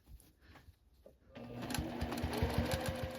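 A sewing machine starts up and stitches steadily along quilt binding, loud and close with a rapid needle rhythm after a brief quiet lead-in.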